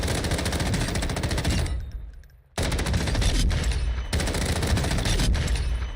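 Sustained automatic fire from a Cronin Mini Pro fitted with a compensator in Call of Duty: Warzone: two long rapid bursts, loud and close, separated by a short gap, then another burst.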